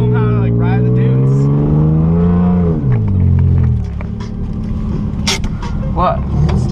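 Engine of a GC8 Subaru swapped to an EJ33 motor, driving on sand dunes; a loud, steady in-cabin drone that rises and falls in pitch as it revs, with people talking over it.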